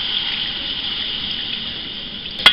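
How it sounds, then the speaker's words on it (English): Water runs steadily from a tap into a pot while Spanish rice is cooked, a continuous hiss at moderate level, ending with a brief sharp clink. "now we're going to add the water"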